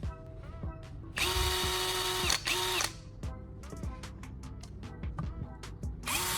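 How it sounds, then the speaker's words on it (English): Cordless rotary drill powered through a revived battery whirs loudly in repeated bursts, with a long sustained run in the middle and short stop-start pulses of the motor toward the end, close to the microphone. "The drill easily drills into its surfaces."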